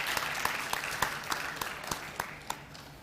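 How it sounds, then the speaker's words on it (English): Audience applause at a school awards ceremony honoring sponsors, a steady crowd clapping with distinct sharp individual claps punctuating it, close and sustained, gradually thinning toward the end. "let's give them as a senior class a round warm of applause"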